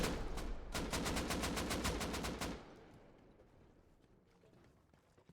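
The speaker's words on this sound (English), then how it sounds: "Shotgun trap." A trap fires during an 8v8 Rust tournament match, letting off a rapid string of sharp gunshots for about two and a half seconds. The shots cut off, and a faint, quiet game ambience remains.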